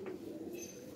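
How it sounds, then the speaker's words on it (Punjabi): Golden pigeons in a breeding setup give a faint, low, steady cooing that hums quietly in the background, with no voices. "ਹੁਣ ਇਹ ਗੋਲਡਨ ਕਬੂਤਰ ਚੈੱਕ ਕਰਿਓ ਜੀ"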